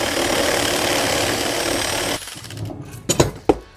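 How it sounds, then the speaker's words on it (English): A loud, steady power-tool whine grinds continuously as a drill bores out bolt holes in a metal car wheel hub, then cuts off, followed by a few sharp metallic clanks and knocks. "So I need to try and drill it out like everywhere."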